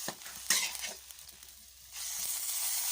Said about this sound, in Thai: อันนี้เรามาผัดหมูหวานกันนะคะ